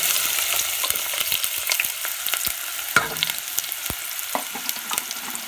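Onions frying in hot cooking oil in a sufuria give a bright crackling sizzle, close and steady, with sharp pops and spatters breaking through.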